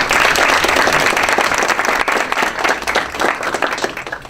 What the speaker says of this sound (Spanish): Pido por último, para nuestros invitados y después para el moderador, un aplauso para el embajador Juan Antonio Mateus Cicero